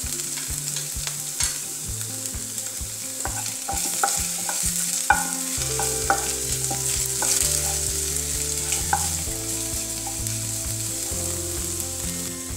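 Chopped garlic stir-fries in a pan for masala egg puttu. A bright, steady sizzle runs throughout with repeated stirring scrapes, all under a layer of background music.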